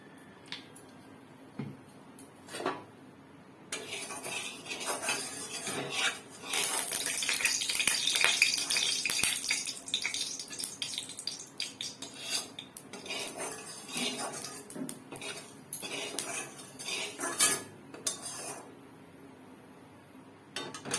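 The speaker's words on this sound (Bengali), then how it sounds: "এবার আমি এতে তেল দিয়ে চিংড়ি মাছটাকে ভেজে নেব।" Shrimp frying in oil in a wok, with persistent clattering of utensils and the wok under a dense, hissing sizzle that swells in the middle and carries on throughout.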